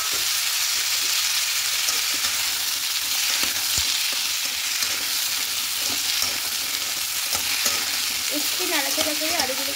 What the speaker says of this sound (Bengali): একটু নাড়াচাড়া করে আলুগুলোকে লাল লাল করে ভেজে নেব।